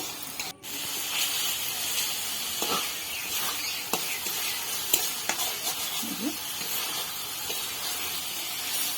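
Salted hilsa fish being gently stirred with spices in a hot pan, a steady close sizzle with soft scraping stir strokes throughout and no talking.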